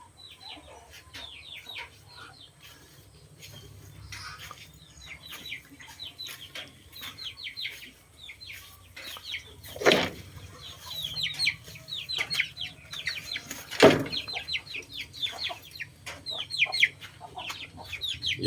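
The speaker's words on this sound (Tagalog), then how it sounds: "Yung isang manok." Repeated soft clucks from a brooding hen among other chickens on a farm, with a couple of short louder bursts like wing flaps or rustling against a steady low background hum.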